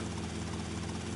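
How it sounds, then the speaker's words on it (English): Helicopter in the video game Grand Theft Auto: Vice City, a close, loud, steady rotor thrum with a low pulsing drone throughout a short stretch and no talk. "That was all 4 of the chopper checkpoint missions in Grand Theft Auto Vice City"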